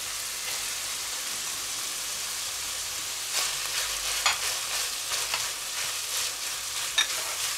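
Meat, carrots and peppers fry in a pan with a steady close-up sizzle, broken by several louder stirring scrapes and crackles in the second half.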